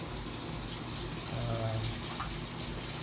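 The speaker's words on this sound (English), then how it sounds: "running hot and cold water will actuate" Hot and cold water gushes steadily into a Maytag MVWX500XW2 washer during a service test cycle, a continuous, fairly faint rushing fill with a faint hum.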